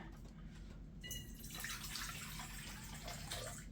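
Room-temperature water poured into a mixing bowl for sourdough bread dough, a steady splashing stream that starts abruptly after a second and runs on, close and without talk.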